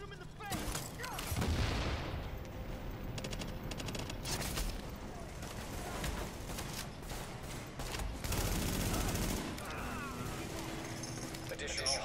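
Bursts of gunfire and explosive booms from a firefight in The Division video game, dense and continuous across the clip, with voices talking over the shooting.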